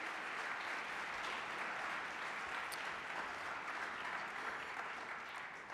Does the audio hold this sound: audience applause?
yes